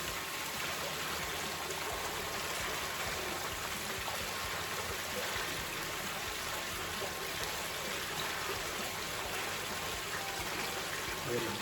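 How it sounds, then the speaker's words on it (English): Rainwater dribbles out of a tipped plastic bucket in a steady, continuous trickle. It stays at an even level and fairly close for the whole stretch. "let it drip on out of there."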